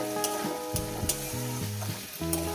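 Spices and masala are stir-fried in a pan while cooking a Bombay duck and leafy greens chorchori. A constant sizzle carries under prominent tonal background music, with small stirring knocks now and then.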